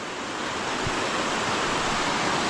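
A river running full of water among rocky cliffs far from the village rushes steadily as a loud, even wash of noise, with no voices over it.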